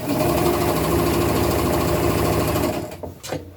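A sewing machine stitches knit fabric for an upcycled hoodie, with the knit layer underneath. Its needle chatters loud and steady, then slows and stops near the end.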